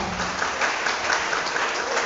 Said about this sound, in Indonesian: Terima kasih, tepuk tangan untuk saudara-saudara.